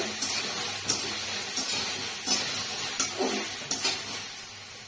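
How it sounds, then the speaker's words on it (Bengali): Ivy gourd sizzles in a hot pan while a spatula stirs and scrapes at regular intervals, close by, with no talking. "কুঁদরিটা প্রায় ভাজি হয়ে গেল"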